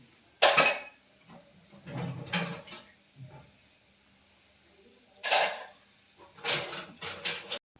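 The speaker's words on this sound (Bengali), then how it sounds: "আমি দেখে গাদাখানিক বাসন হচ্ছে, সেগুলোকে ধুয়ে নিচ্ছি।" Pots, pans and cutlery clanking as a pile of dishes is washed, a few loud bursts of clattering and scraping separated by quiet pauses, close by.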